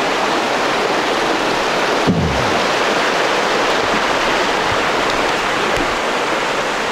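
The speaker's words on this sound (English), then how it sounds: "So we're right next to this creek." A creek flows beside a campsite, a steady close rushing wash of water with a single short thump partway through and no voices.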